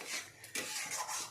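A spatula scrapes and stirs ridge gourd curry in a pan in a few short, rough bursts, close and moderately loud, ending with a sharper knock.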